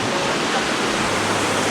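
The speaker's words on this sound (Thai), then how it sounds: "น้ำตกเป็นน้ำตกที่สูงมาก" A very tall waterfall in Narathiwat, Thailand roars with a loud, constant, dense rush of falling water that fills the whole moment.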